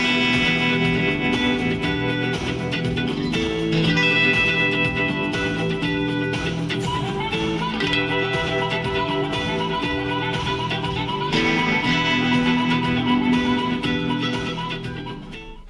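Electric guitar plays the next section of a song in a steady, dense, sustained stretch with no voice over it, loud and close, easing off at the end.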